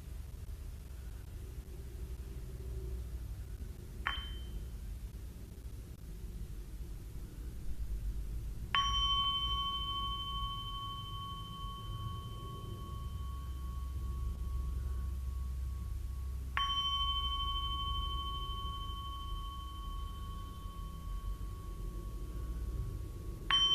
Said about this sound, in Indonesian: Dan kita ulang 3 kali sesuai dengan suara genta.